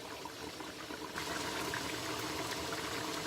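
Lahori-style mutton karahi cooking on a high flame as its water cooks off: a steady, dense sizzling and bubbling that grows louder partway through and continues without any voices.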